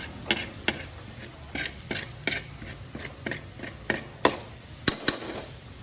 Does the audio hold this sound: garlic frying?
yes